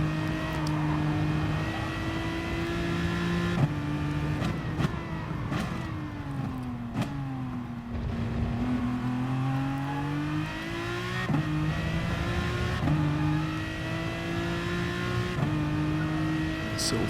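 A race car engine in Gran Turismo Sport at the Dragon Trail Gardens circuit, held on throttle with rising and falling revs through gear shifts and corners, loud and continuous with faint tire noise underneath.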